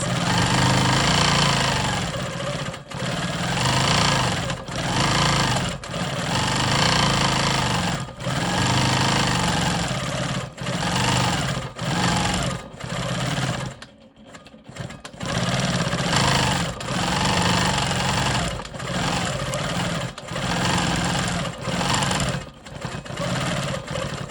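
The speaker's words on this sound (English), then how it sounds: "now I'm on my very last portion, quilting this last skinny rectangle with smoky swirls." A sewing machine stitches smoky swirl quilting on a skinny rectangle of a rolling stone quilt block, running loud and close in long steady bursts with brief stops and one longer pause.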